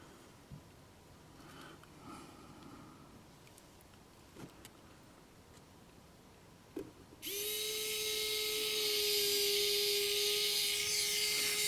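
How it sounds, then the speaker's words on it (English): A steady high-pitched whine of a small electric drill boring a hole in a model railcar starts partway through and runs continuously to the end, loud and close, after a few quiet clicks. "first I'm going to drill the hole"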